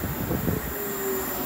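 South Western Railway class 450 electric unit 450 069 passing on the line near Fratton, with a low rolling rumble, a high sustained whine and a faint wheel squeal, close and steady.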